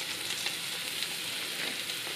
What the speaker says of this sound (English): So I'm melting a big blob of butter in a frying pan